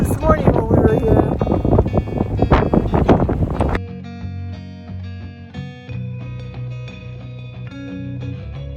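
Strong wind of around 40 miles per hour at Great Sand Dunes National Park buffets the microphone in a loud, gusty roar for several seconds, then cuts off abruptly into steady tonal music.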